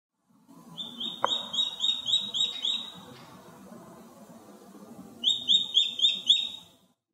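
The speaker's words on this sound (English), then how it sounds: "Goshawk." A goshawk calls in two bursts of rapid, repeated high-pitched notes, the first early and the second near the end, with a softer gap between them and a low background rumble.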